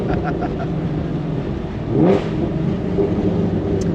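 A powerful 800 whp Whipple-supercharged Mustang GT350 engine rumbles close by, then revs once with a rising whine before settling back to a loud idle.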